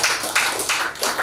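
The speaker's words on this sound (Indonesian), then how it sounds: "Tepuk tangan dulu buat Mercy." Short bursts of applause for Mercy at a business opportunity presentation, several uneven waves of clapping rising and falling across a brief moment, fairly close and steady with no voices.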